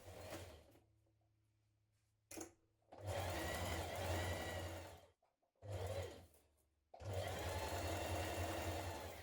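A close sewing machine topstitches along a fabric edge in loud, sustained runs, pausing briefly twice between bursts with no talk over it.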